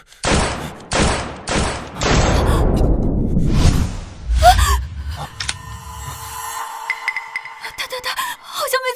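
Gunfire in a Chinese action drama scene: four sharp shots in quick succession, then a heavier sustained burst, followed by whooshes and clattering effects.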